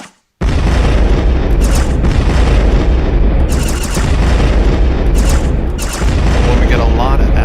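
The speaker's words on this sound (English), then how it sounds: "Now you can apply the explosion to the rocks themselves." Explosion effects in a video game shooter where asteroids are blown apart, with booming blasts and crackling bursts that run loud and continuous, layered with rapid pops and weapon fire.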